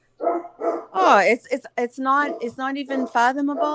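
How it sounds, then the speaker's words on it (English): A dog barks loudly nearby, several sharp barks at the start, then more barking mixed in with someone talking over it. "that's my dog. He's being badass."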